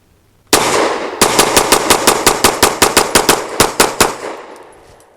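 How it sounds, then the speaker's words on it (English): A BUL Armory Ultralight pistol fires a rapid string of about fifteen close, loud shots loaded with relatively soft MagTech ammo, beginning with one lone shot followed by a brief pause, then an evenly spaced burst that ends in a fading echo. "This one, we want to see how the gun runs fully stuffed with relatively soft MagTech ammo."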